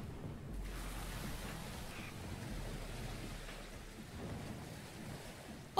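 Rain and a thunderstorm around a boat in the video game What Lives Below: a steady, moderately quiet wash of rain hiss over a continuous low rumble, with no voices, ending in a sharp brief burst.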